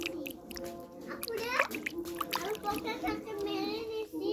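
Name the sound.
washing freshly pulled homegrown ginger in water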